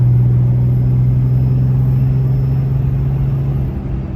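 A Dodge Ram pickup with the 6.7 Cummins diesel, at roughly 250,000 miles, drones along steadily under load while driving, a loud, even low rumble that fades slightly near the end, with no talking.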